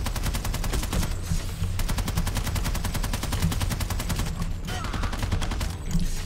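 Rapid, continuous automatic gunfire rattles on without pause, dense bursts layered over a low rumble, loud and close throughout, in the video game Planetside 2.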